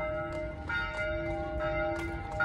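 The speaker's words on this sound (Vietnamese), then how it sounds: "Cho nên họ treo những cái chuông cho con bò nè." Bells hung on cows at a farm in Iseltwald, Switzerland, clank and ring in several irregular, overlapping strikes over a steady outdoor background, moderately close, with no talking.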